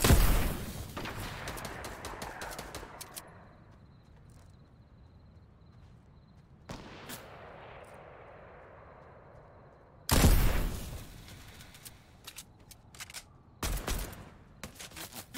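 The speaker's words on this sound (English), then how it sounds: "They're shooting at me from other angle." Enemy gunfire in the video game Fortnite cracks out in loud, dense bursts, then drops away to quiet before more sharp volleys, with no talk over it.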